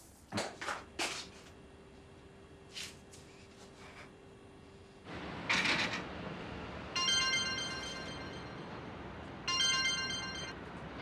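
A phone ringtone plays in two separate bursts of bright, repeating electronic melody, preceded by a few knocks and household clatter in a quiet indoor room.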